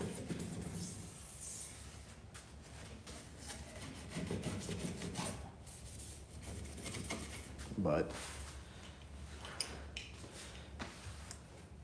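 Parts being scrubbed by hand with a Scotch pad in a workshop, a faint irregular rubbing and rasping that comes in short bursts, with a few light knocks and clicks.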